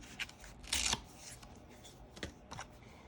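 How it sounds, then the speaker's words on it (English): Scissors snipping through paper while cutting out a large Mickey head shape, with a few short crisp cuts and one longer rustling stretch, close and fairly quiet. "So let's attempt to cut this big Mickey head out."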